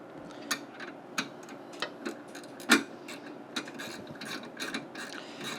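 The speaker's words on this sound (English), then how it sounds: "I'm going to take that 4mm Allen." A bolt being turned with a long 4mm stainless Allen key while fitting a 900W 48V upgrade kit to a Razor Crazy Cart, giving close, quiet irregular clicks and ratchety ticks with one sharper snap midway, no talking.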